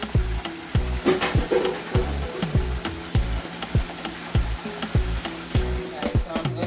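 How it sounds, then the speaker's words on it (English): Chicken sizzles steadily as it fries in a pan for a Jamaican brown stew chicken dish, with regular scraping and tapping from stirring and turning the pieces. Close, loud and continuous, with no talk. "So I'm frying the chicken"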